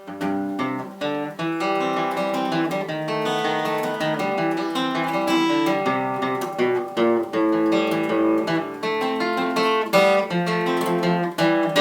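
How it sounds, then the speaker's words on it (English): Acoustic guitar cross picking on "Bully of the Town", a rapid rolling pattern of single notes across strings, steady and bright, played alone without any voices. "For cross picking, it may sound something like this."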